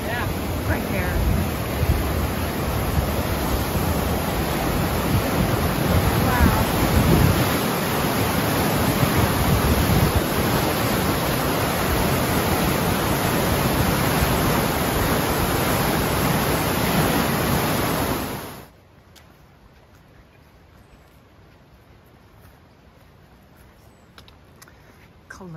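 Loud, steady rushing of a high-flow creek pouring under a backcountry trail bridge in the Weminuche Wilderness, a dense broadband roar that fills most of the clip and then cuts off abruptly near the end, leaving only faint quiet.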